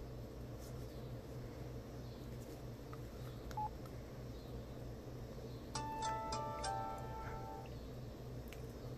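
Keypad button tones on an LG VX5300 Verizon flip phone with a blue-lit plastic keypad: a short burst of several quick electronic beeps near the end, clear over a steady low hum.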